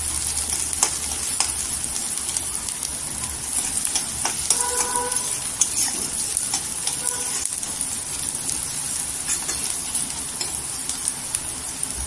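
Onions frying in a pan for a potato curry, a constant hissing sizzle with scattered crackles and a few clinks of a utensil against metal, close and steady, with no one speaking.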